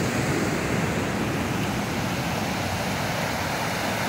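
Sea waves wash onto the shore as a dense, steady roar of surf, loud and close, mixed with wind buffeting the microphone.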